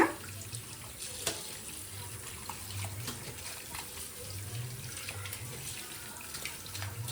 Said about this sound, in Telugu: చేపల్ని ఫస్ట్ నీళ్ళతో కడిగేసేయాలి